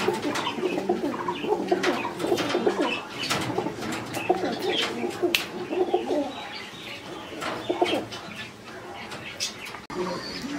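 Domestic pigeons coo steadily in a loft or yard where birds are kept for sale, with overlapping low throaty calls, occasional chirps and some wing flutters, close and fairly loud throughout.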